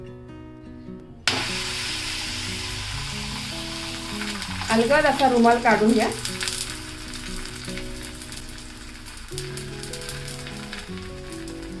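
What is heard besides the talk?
bajra and spring onion thalipeeth frying on a griddle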